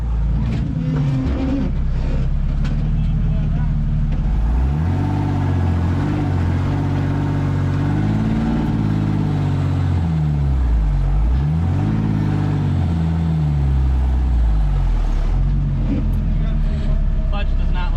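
An off-road vehicle's engine revs and labors on a trail at an off-road park, pitch rising and falling in strained surges as the clutch struggles, loud and close, with voices talking over it.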